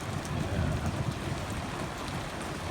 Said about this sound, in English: I'm glad the rain's been slow.